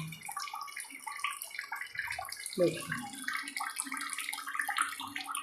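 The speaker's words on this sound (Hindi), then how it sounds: "देखिए पानी की धार देखिए धीरे धीरे हो गई है।" A thin stream of water trickles and splashes from a home water purifier, a steady light gurgling flow with a brief louder splash midway, while someone speaks briefly.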